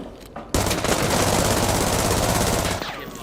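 Sustained automatic gunfire from a weapon in the shooter game Arena Breakout: Infinite, a loud, dense rapid burst lasting a few seconds after a brief quieter moment.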